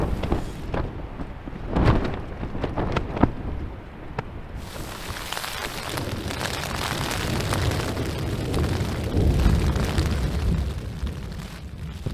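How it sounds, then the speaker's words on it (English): Thunder in a storm over the Irish mountains: several sharp booming cracks early on, then a long rolling rumble mixed with gusty wind buffeting the microphone, no voices. "That's thunder and lightning."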